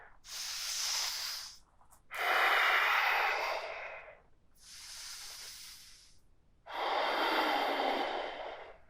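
Slow, deep breaths held in a reverse tabletop yoga pose during a gentle beginner session: four long, airy inhales and exhales alternating steadily, close and fairly loud, with no talking over them.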